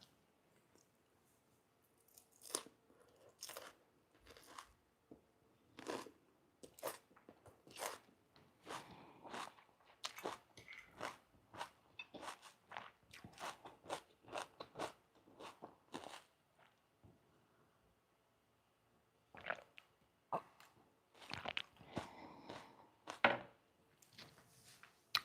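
Crunchy bites and chewing of a fresh rainbow salad dressed with olive oil, vinegars, mustard, maple syrup and garlic, heard close and intimate in an ASMR setting, with irregular crisp crunches separated by quiet pauses and a denser cluster toward the end.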